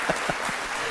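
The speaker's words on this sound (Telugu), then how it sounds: "చప్పట్లు కొట్టండి." A live audience claps in a brief burst of applause at a televised courtroom-style talk show, a dense patter of hands lasting about a second.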